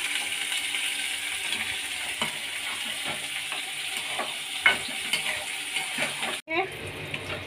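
Onion and whole spices fry with a steady close sizzle in a pan, stirred with frequent scraping knocks, until a brief clatter near the end. No voices are heard.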